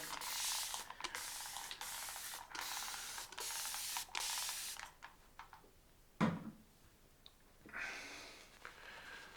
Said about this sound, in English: I'm going to spray on a bit more water.